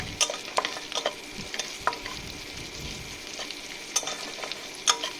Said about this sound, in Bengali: এবারে আমি বেশ কয়েকটা কাঁচা লঙ্কা কুচনো দিয়ে দিলাম, যেটা একটু ভেজে নিচ্ছি আবার